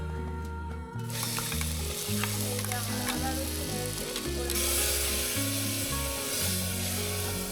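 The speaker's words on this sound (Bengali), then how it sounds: "আমিও আজ প্রথমে প্রেশার কুকারে মশলা কষিয়ে নিয়ে তারপর ওটাতেই মাংসটা দিয়ে দেবো" Spiced masala fries in a pressure cooker with a steady, hissing sizzle that starts abruptly and swells slightly partway through, over a background of soft melodic music.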